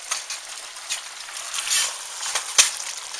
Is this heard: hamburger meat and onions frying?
yes